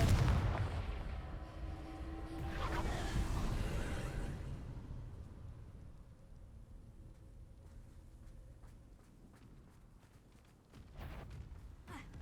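A Confringo blasting spell in a wizard game bursts with a deep, rumbling explosion at the start, swelling again before fading into a quiet low tail, followed by a smaller thump near the end.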